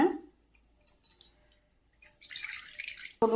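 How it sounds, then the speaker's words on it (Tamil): Water poured from a tumbler into a kadai on the stove while making gooseberry jam: a few scattered drips and clicks, then a brief splashing pour that ends sharply. "கடாயில் ஒரு டம்ளர் தண்ணி ஊற்றிக்கோங்க."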